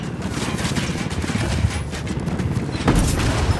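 In Ghost Recon Wildlands, an HTI sniper rifle fires on a helicopter, with a few heavy, spaced booming shots over a dense bed of game noise.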